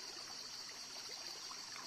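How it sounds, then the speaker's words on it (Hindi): Forest stream at a local beauty spot, water flowing and trickling steadily in a continuous close wash with no break or voices. "आप फिर से देखिए यह पानी।"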